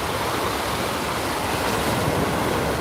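Storm waves from Tropical Storm Fay crash against a seawall in New York harbor, heard as a dense, steady roar of surf and spray with no voices.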